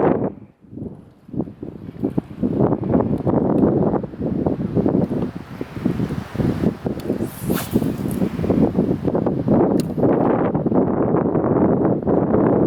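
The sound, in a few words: strong wind on a lake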